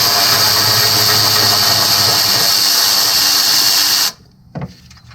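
A power tool whirs loudly and steadily for several seconds while backing a nut off the 3.6L engine of a 2014 Acadia during a timing chain job. It then cuts off abruptly, followed by a short clunk in near silence.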